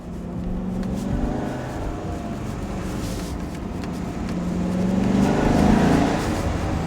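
A Maserati Quattroporte accelerates in second gear, its engine a continuous droning roar that swells louder toward the end.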